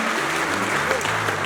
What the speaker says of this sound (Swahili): Appreciate Zawadi kwa makofi